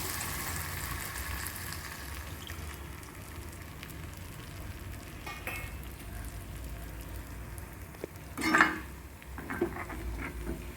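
Black nightshade and tomatoes fry in a pan, hissing steadily, then tamarind water is poured in and a louder, sudden sizzle surges up near the end before settling, with no voices.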